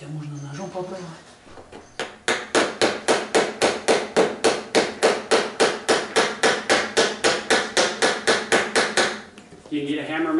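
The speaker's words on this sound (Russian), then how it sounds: "Сейчас я молоточек принесу, подобью его." A hammer strikes a nail in a rapid, even series of about twenty sharp metallic taps, close and loud, with brief talk before and after, while a fan is installed under a gas fireplace.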